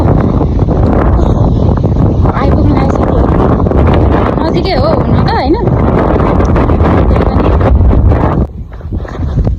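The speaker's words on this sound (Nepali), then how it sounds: "कस्तो हावा चलेछ" Strong outdoor wind buffets and roars loudly and continuously into the microphone, with people talking underneath it before it drops slightly near the end.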